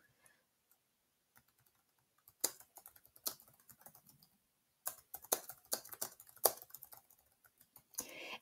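Bursts of typing on a computer keyboard with clusters of quick clicky keystrokes separated by short pauses, close and clear in a quiet room.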